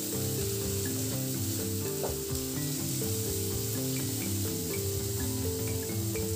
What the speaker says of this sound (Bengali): আদা রসুন ও পেঁয়াজের সাথে ভেজে নিয়েছি।